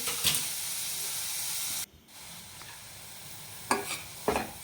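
Onions sautéing with a little salt in a pan for a Kerala-style anchovy curry, giving a steady soft sizzle broken by a brief quiet gap and a few louder stirring scrapes near the end.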